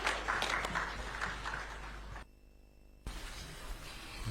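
A media audience gives a round of applause for Ghana's President John Mahama at a presidential media encounter, a moderate clapping that briefly cuts out mid-way before resuming.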